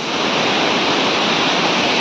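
Chatikana waterfall beneath the Niyamgiri hills roars as a loud, constant broadband rush of falling water, steady and close throughout with no voices.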